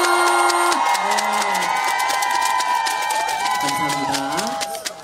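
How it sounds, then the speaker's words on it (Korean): A festival audience at the 2024 Cheongwon Life Festival claps and cheers in a sustained wash of applause, with a sustained tonal voice or music line running over the crowd noise. "큰 박수 부탁드립니다"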